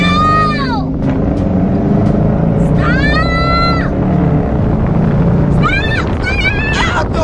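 A car's engine roars while it spins a 360, with squealing tire-like sweeps rising and falling over the motor. Excited voices shout loudly throughout.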